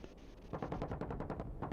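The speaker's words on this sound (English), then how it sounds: "You can hear gunfire from the 64 as well." In a video game, rapid bursts of automatic gunfire from an AH-64 helicopter rattle in a fast, regular rhythm over a low rumbling background, loud and close.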